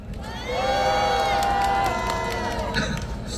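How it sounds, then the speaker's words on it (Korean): Rally crowd outside the Constitutional Court cheering and applauding, a loud sustained roar with whoops that swells after half a second and holds steady to the end. "박수 한번 부탁드립니다."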